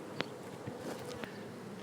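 Honeybees hum faintly and steadily around an open hive while a beekeeper brushes them off the comb during queen replacement, with a few soft taps and knocks.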